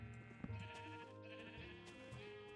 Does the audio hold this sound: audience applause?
no